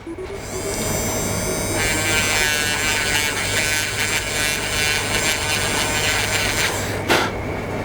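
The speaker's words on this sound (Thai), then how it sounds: "กดปุ่มแล้วมันก็จะหมุน มันก็จะมีหัวขัดอยู่ตรงเนี้ยมีหัวเปลี่ยน" A small handheld rotary tool with an interchangeable sanding head whines steadily and loudly while smoothing a plastic model part, a continuous buzzing drone close up that cuts off near the end.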